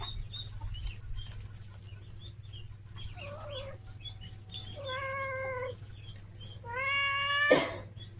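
A cat meows several times, drawn-out and whiny, ending in a loud sharp yowl, over a low steady hum.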